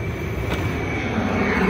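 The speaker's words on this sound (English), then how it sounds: "sorry about the plane" Propeller or jet airplane passing overhead outdoors, a steady, fairly loud broadband drone that holds evenly throughout, heard near a workshop during work on a Hammerhead dune buggy.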